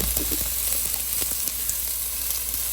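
Ginger sizzles as it is sautéed in a pan for a fish sinigang, a steady close frying hiss with small crackles throughout.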